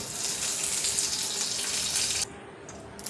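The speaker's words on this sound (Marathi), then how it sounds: "आता तुपावर डिंक परतून घ्यायचं मिडियम फ्लेमवर" Edible gum (dink) roasts in ghee over a medium flame, giving a steady, bright frying hiss that runs evenly and then drops away abruptly near the end.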